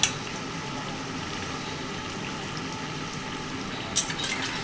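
Water for tel koi fish curry bubbles at a low boil in a pot, a faint, steady seething with a brief splash near the end.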